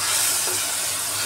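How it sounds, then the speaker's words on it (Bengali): A splash of water hitting hot, sizzling masala with Kashmiri red chilli powder in a pan, giving a loud, continuous steamy hiss close up, with no talking. "মশলা কষানোর জন্য সামান্য জল দিয়ে দিলাম।"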